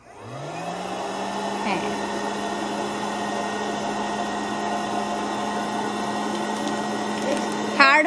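Electric popcorn maker switched on and running at home, a steady loud motor hum rising at start-up and holding throughout, with a brief spoken word and faint rattles near the end.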